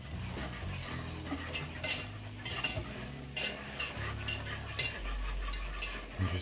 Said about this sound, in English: And just keep on whisking.